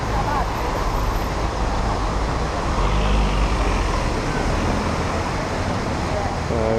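Cars streaming past on a busy road in Torrevieja, a steady close rumble of engines and tyres, with one vehicle swelling louder near the middle.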